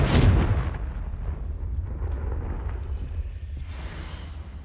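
A Confringo blasting spell in Hogwarts Legacy goes off as a single heavy explosion, loud at the very start and then fading into a long low rumble.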